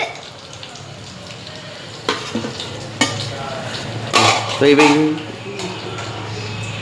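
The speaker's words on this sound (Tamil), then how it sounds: "இப்போ நான் வந்துட்டு இதை வறுத்துட்டு இதை எடுக்க போகிறேன்" Chicken kola urundai fry in hot oil with a steady sizzle, while a few clanks and scrapes of a utensil against the pan mark them being turned and lifted out.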